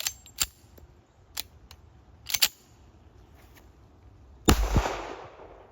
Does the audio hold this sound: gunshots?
yes